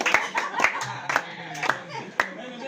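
Steady, deliberate hand claps ring out about twice a second, applauding David, with a voice talking softly between and under the claps.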